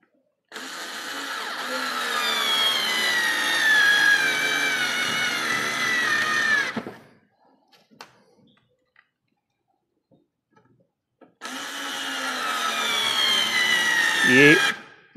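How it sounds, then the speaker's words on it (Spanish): A Daewoo 3.6 V cordless lithium screwdriver drives a screw into semi-hard wood in two bursts, a whining motor rising in pitch for about six seconds, a quiet pause, then another run ending with a louder strained whir. "Y estamos atornillando una madera semidura, no un pino."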